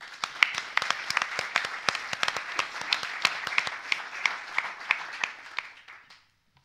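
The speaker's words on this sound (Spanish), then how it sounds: "Un aplauso para el maestro." An audience at a Madrid literature festival claps for a poet. The individual hand claps are distinct and moderately quiet, forming a brisk patter that tapers off and ends in silence.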